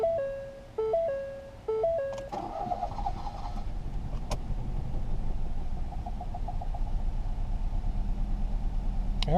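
A 2018 Ford Focus engine with water in a cylinder cranks in a few short bursts, then catches and settles into a rough, pulsing idle that keeps going, close and fairly loud, with chimes at the start.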